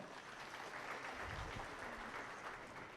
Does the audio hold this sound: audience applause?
yes